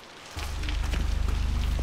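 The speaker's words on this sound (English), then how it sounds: "And it's raining." Steady rain falls in the video game Apartment Seven, a dense continuous hiss that swells in after a quiet moment and keeps a pulsing, rhythmic patter throughout, close and fairly loud with no voices.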